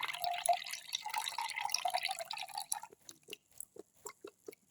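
Milk, about 300 ml, is poured into a blender jar for a smoothie, a close liquid stream splashing and gurgling, then breaking into a series of separate drips toward the end.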